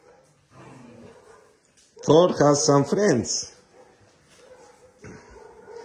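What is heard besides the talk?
dogs barking and whimpering, including German Shepherd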